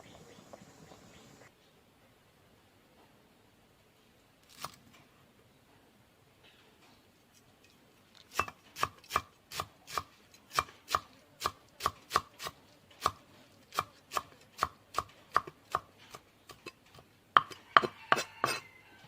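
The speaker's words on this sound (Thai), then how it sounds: "เดี๋ยวป้าไปซอยพักแล้วก็ไปตำน้ำพริกก่อนเนาะ" A cook chops vegetables for a northern Thai frog salad, with a few scattered knocks followed by a long run of regular, crisp knife strikes on a board, close and clear, ending in a quicker flurry.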